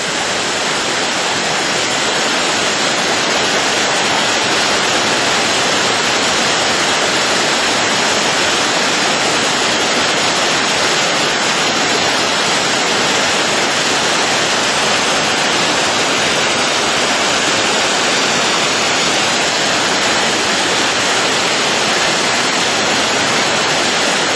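Water pours steadily at ButterMilk Falls, a loud, continuous broadband roar of falling spray close by, unbroken and without voices for the whole stretch.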